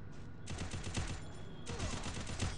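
Rapid bursts of gunfire from the Free Fire video game, two dense volleys of sharp shots firing in quick succession, loud and close, with no talk over them.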